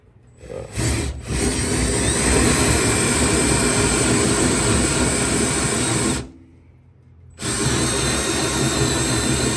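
A battery-powered cordless drill runs at a steady, loud, high whine while boring, cutting out briefly near the end before starting up again at full speed.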